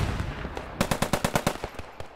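Sturmgewehr 44 assault rifle in the WWII game Squad 44 firing a rapid burst of about ten sharp, evenly spaced cracks, close and loud, after a few fainter distant shots.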